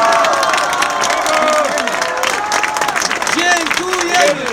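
Loud crowd applause and cheering at an outdoor Poznań rally defending court independence, with dense clapping, whistles and shouting voices running steadily throughout.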